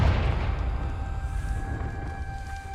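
A Confringo fire spell bursts in the Hogwarts Legacy video game, a heavy deep rumbling blast that fades slowly, with a faint sustained magical tone ringing above it.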